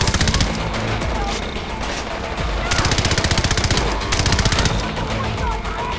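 Automatic gunfire fills a Far Cry 4 firefight, with loud, close bursts of rapid shots in quick succession and short gaps between them. A voice is faintly present beneath the shooting.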